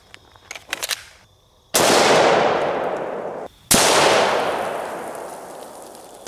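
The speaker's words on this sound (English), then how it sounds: "we're going to start out with an AR-15, and we're going to be loaded up with some green tip" Two loud, sharp AR-15 rifle shots of 5.56 green tip rounds at an Atlas stone outdoors, each with a long fading echo, preceded by faint clicks and handling noise.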